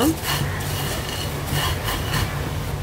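Ghee-fried lachcha being stirred in a pan for lachcha barfi, with repeated scraping strokes of a spoon against the metal at an uneven rhythm, close and moderately loud.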